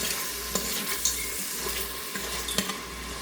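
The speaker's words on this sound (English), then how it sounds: "And let that saute for about 3 minutes." Food sautés in a pan with a steady close sizzle, while a utensil stirs and scrapes against the pan in a few distinct knocks, with no talking.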